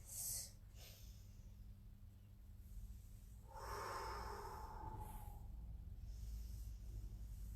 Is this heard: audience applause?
no